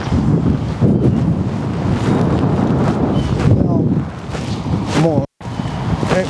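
Strong wind buffets the microphone outdoors on a golf range, a continuous rumbling roar with gusts, while someone talks over it.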